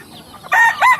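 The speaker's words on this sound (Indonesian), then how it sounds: "Yang nampak dalam tayangan ini adalah jenis ayam kampung" A rooster of Indonesian village chicken stock, descended from Siamese fowl, crows loudly and close in two strong bursts after a quiet start.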